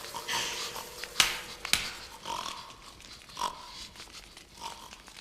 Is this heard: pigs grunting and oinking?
yes